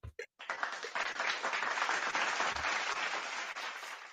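A short round of applause for a rapper at a cypher session, a dense burst of clapping from a small group that swells quickly and holds steady for a few seconds, fairly close.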